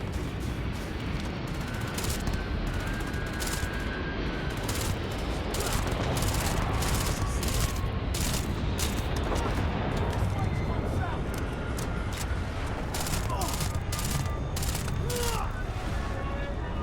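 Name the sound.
gunfire in the video game Starfield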